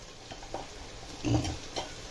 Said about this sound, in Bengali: দেখো বাদাম আর কটা কিশমিশ ভাজতে বসিয়ে দিলাম